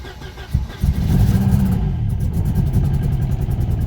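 A Mercedes 190E found in a barn cranks and catches, then runs rough and uneven, misfiring on some cylinders, loud and close.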